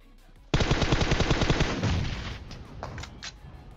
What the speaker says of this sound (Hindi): और AWM के साथ साथ गोलाबारी चालू हो जाती है।